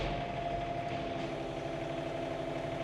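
An engine holds steady at wide open throttle while driving hydraulic cylinders, a faint, even mechanical drone with a constant hum and no talking.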